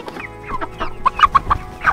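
Red-shouldered Yokohama chickens and pearl and purple guinea fowl cluck in a series of short, close calls that come quicker and louder toward the end, with no voices.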